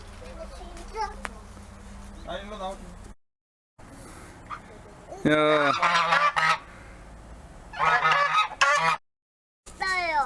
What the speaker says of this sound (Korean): 어유 거위 소리가 굉장히 크네.